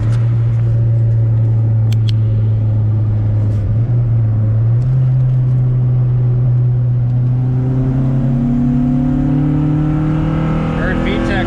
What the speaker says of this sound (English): Heard VTEC cross that time.